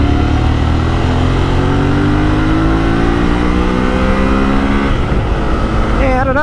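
A Yamaha Tenere 700 motorcycle engine revs loud and close, its pitch climbing steadily through one long pull before dropping off near the end.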